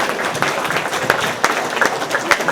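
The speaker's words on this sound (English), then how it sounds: "Let's have one more round of applause." A crowd at a local history talk gives a round of applause, loud close clapping with sharper individual claps standing out over a brief, steady burst.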